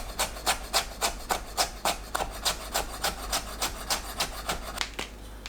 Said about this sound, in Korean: 당근을 채 썰어줍니다.